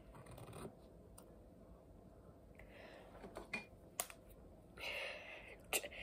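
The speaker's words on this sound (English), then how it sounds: "I'm gonna need to grab these scissors." A pair of fake scissors is picked up and handled among makeup items, with a string of soft clicks, scrapes and rustles, some sharp ticks and brief scratchy bursts, all fairly quiet.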